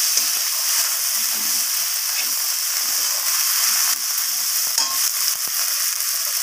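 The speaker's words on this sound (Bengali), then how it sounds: "তো আদাটা দেওয়ার পর আবারও আমি মশলার সাথে এইভাবে কষিয়ে নেব।" Ginger paste and spices stir-fried in a pan, a steady bright hiss of sizzling with occasional soft scrapes of stirring, close and continuous throughout.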